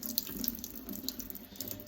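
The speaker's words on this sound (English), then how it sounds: "letting that water run through there" Water from a sink tap runs through cheesecloth wrapped around parsley being rinsed, a continuous close trickling wash with faint wet squelches and no voices.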